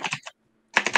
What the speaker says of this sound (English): The heck is Keith typing?